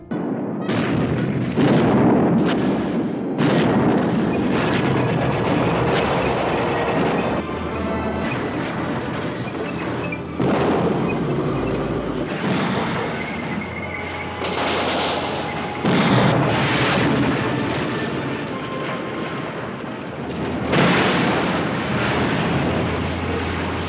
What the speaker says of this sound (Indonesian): saat malam hari tiba Brigade Panzer Jerman, pimpinan Kolonel Hessler itu pun langsung membombardir Amblev tanpa henti.